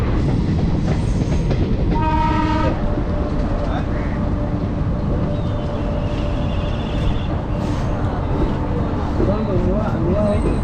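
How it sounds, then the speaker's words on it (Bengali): A train rumbles steadily into Bhubaneswar station with clattering wheels and a brief horn blast, as people talk faintly in the background. "ট্রেন ভুবনেশ্বর স্টেশন ঢুকছে এখন"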